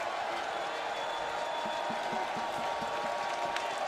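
Steady roar of Bulls fans filling a college football stadium during a FAMU Rattlers versus South Florida Bulls game, a constant distant crowd wash with faint voices talking over it.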